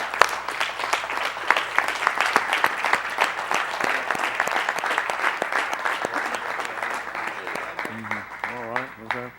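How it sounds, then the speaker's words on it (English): Church congregation clapping together during a livestreamed worship service of The Way Of Yah, steady dense hand claps throughout, with voices talking over the applause and sung or spoken tones near the end. "Give Mr. Yahuwah a hand clap."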